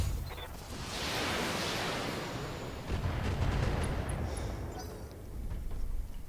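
PPC weapon fire in a mech combat video game, a long roaring electrical blast that swells and rumbles for several seconds, followed by a second heavy surge with crackling high tones.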